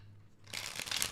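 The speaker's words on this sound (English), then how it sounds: "Last shuffle." A short burst of rapid papery riffling as a deck of tarot cards is shuffled up close, following a moment of quiet hum.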